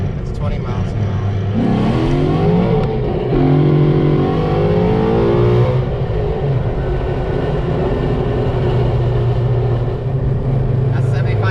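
Stage 3 Calimer car pulling hard through second gear to about 7,500 rpm, with engine pitch climbing steadily before the shift and then settling into a loud, close, continuous cabin drone.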